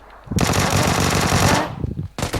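Rapid automatic gunfire from the PUBG Lite video game rattles out in a loud sustained burst lasting over a second, followed by a short pause and another burst starting at the end.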